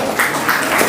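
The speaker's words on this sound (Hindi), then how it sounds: "जितना ताली बजाइएगा उतनी ऊर्जा जनरेट होगी।" An audience claps steadily for about a second at a classroom-style Uttarakhand general-knowledge quiz session, a dense and fairly loud wash of hand claps with no voice over it.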